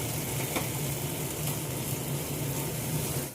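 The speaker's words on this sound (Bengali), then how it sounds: "ডালটা সেদ্ধ করে নিয়েছি, এবার ডালটা দিয়ে দেবো।" Boiled dal going into a pan of sizzling fried masala, a steady close frying hiss with faint liquid and stirring sounds, continuous and even throughout with no talking.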